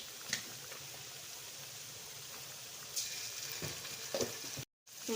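Cumin seeds and dried red chillies fry in hot oil for minapa masala vada, giving a steady soft sizzle with a few brief louder crackles and a short silent gap near the end.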